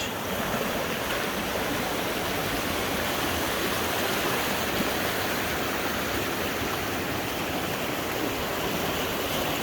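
Loud, constant rush of a fast-flowing, rain-swollen stream nearly reaching a bridge, a steady roaring wash with no pauses and no voices.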